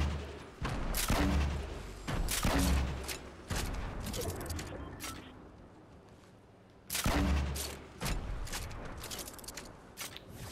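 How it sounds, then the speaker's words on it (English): Video game gunfire in loud, close bursts of rapid shots, with a lull in the middle before another heavy volley and a few scattered shots near the end. "Where the fuck did he shoot me from?"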